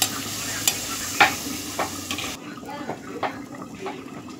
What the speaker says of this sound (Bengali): এবার লুচিগুলো একে একে ভেজে নেব।